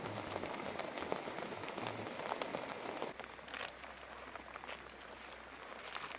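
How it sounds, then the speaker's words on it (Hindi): Heavy rain falls on a forest campsite in Uttarakhand, a dense, steady patter of drops on tarp and leaves that continues unbroken, with a faint low hum underneath. "काफी खतरनाक बारिश आ रखी है यार इसमें।"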